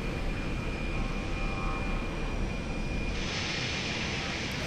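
Jet aircraft engines idling on a runway in the Lock On flight simulator game, a steady, loud broadband roar with a faint whine that brightens slightly toward the end, with no voices.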